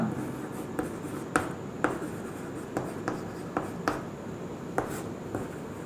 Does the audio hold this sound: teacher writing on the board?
yes